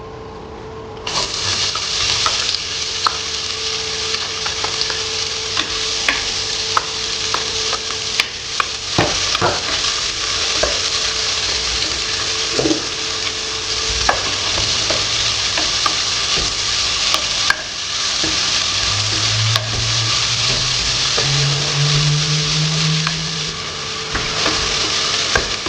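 Onions dropped into hot oil in a heated pan while cooking a spicy Anglo-Indian pork pot roast on the stove top give a loud, constant close sizzle with scattered pops and stirring clatter, no voices.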